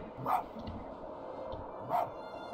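A fox in the video game Spirit of the North gives two short, sharp barks about a second and a half apart, moderately loud over a soft ambient music bed.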